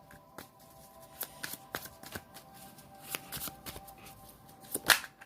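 Tarot cards are shuffled by hand in quiet, scattered riffles and soft flicks, with a louder snap near the end, close and alone with no voice.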